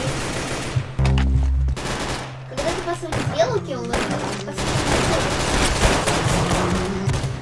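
A gun in the Roblox game Arsenal fires rapid bursts of shots, loud and dense, mixed with game sounds while a person talks over it.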